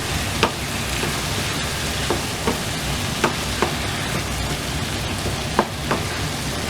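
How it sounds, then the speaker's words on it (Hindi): Cleaned prawns stir-fry with vegetables for Chinese fried rice: a steady close sizzle with occasional light clicks of the stirring utensil against the pan, no voices. "अभी इनको वेजिटेबल के साथ इसको पका लेंगे"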